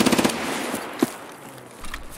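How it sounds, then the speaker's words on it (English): Rapid AK-104 rifle fire in a video game opens with a quick burst of close, punchy shots, then a single louder report and a low rumble of other in-game noise, with no talking. "I brought in my AK-104."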